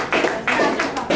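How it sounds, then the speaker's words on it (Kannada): An audience at a business meeting in Mysore claps hands together, a dense burst of applause in several quick swells, close and loud, over about a second. "ಹೊಡೀರಿ ಚಪ್ಪಾಳೆ"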